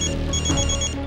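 A telephone rings in a home sitcom scene on a Sunday, a bright electronic tone pulsing steadily and loud over a low background hum, with no one speaking.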